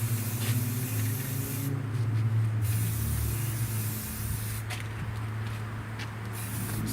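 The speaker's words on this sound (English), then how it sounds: "Stuff spraying right towards the camera." Spray primer hisses from an aerosol can in steady bursts, close and fairly quiet, with short pauses between passes during drum brake work in a garage.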